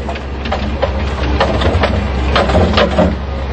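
A concrete mixer runs with a loud, steady, close mechanical rumble and grinding churn that holds level for several seconds without pause or speech.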